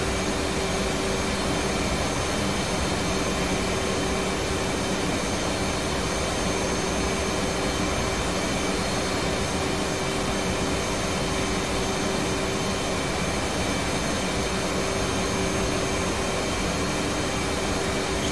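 Steady, loud roar of an F/A-18 Hornet jet engine in the flight simulator DCS World, a constant broadband whine with a faint tonal hum that holds unchanged for the full length.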